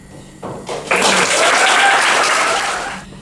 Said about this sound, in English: I would really like you to all give a great round of applause to Sam.